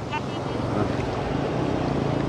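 Ocean waves wash onto a beach, a continuous rushing surf roar mixed with gusting wind noise across the microphone, loud and close throughout.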